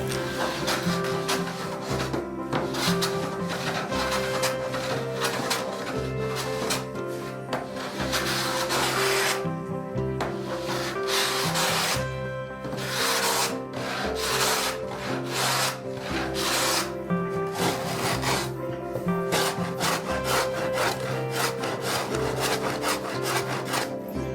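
Hand planing and cutting of wooden parts for a Caravelle skiff build, steady rhythmic rasping strokes in repeated runs over a background of music, close and continuous with no talk.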